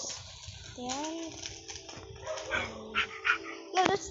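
A dog gives a few short, fairly faint barks and whimpers in a home where a pet bird is kept, mixed with scattered chirps and small background noises.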